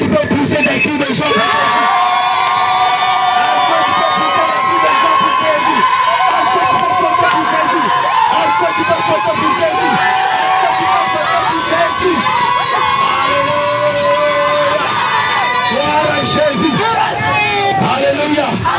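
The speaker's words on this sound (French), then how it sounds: "Est-ce que tu peux pousser des cris de joie?" A large crowd at an open-air evangelism rally at a busy crossroads in Korhogo shouts and cheers in joy, a dense sustained roar of whoops and cries with children's voices mixed in, loud and continuous.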